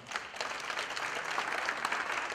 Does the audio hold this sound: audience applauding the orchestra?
yes